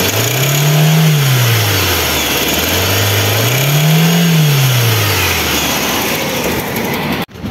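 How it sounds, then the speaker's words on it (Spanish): A Ford Zetec Rocam 1.6 8V engine, overheated with water in the oil, revs up and down twice in loud, close sweeps. A metallic sound from inside the engine runs beneath the steady roar. "Y acelerándolo un poco suena algo metálico dentro del motor."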